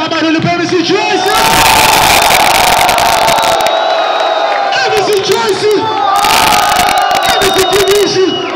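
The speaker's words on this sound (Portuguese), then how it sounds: "Tá barulho para esse Joyce!" A big crowd at a Brazilian trio rap battle final roars with cheers and shouts, loud and sustained, swelling in two surges with brief dips between them.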